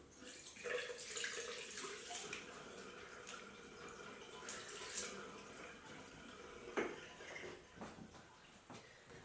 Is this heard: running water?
yes